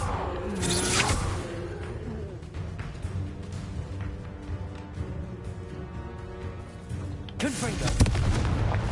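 Confringo fire spell explosions in Hogwarts Legacy gameplay: heavy booming blasts and whooshes open and close the stretch, with rumbling combat noise and a character's voice shouting over the middle, loud and dense throughout.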